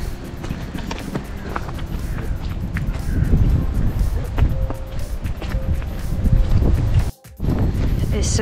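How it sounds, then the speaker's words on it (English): Strong early-morning wind at Goldcliff buffets the microphone with loud, uneven low rumbling gusts that surge and ease throughout, dropping out briefly near the end, with faint background sounds mixed in. "It's so windy."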